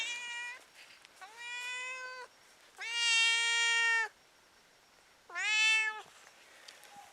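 A house cat in a snowy Hutsul mountain village meows for food, three long, clear cries with pauses between them, close by in a quiet room.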